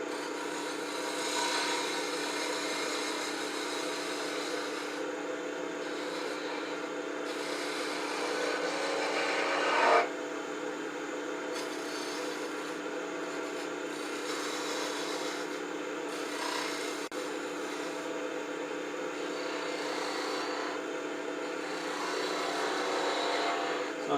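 A wooden owl being shaped on a wood lathe with a fingernail-ground spindle gouge, giving a steady, continuous scraping rasp of the tool on spinning wood that runs close and unbroken throughout.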